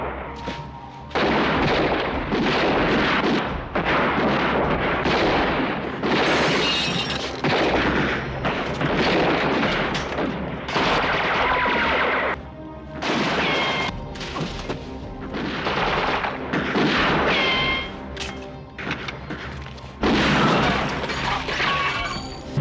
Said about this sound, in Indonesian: Tembakan pun pecah, di mana Ochoa berhasil melumpuhkan penembak jitu, namun ia sendiri tertembak dan jatuh